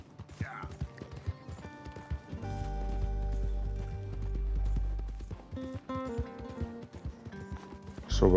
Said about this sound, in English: It's actually quite a nice horse, it's quite big as well.